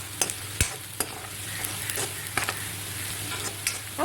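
Tomato and onion roast in a pan for fish curry, giving a constant close sizzle punctuated by sharp spoon clacks and scrapes at irregular intervals, with no voices.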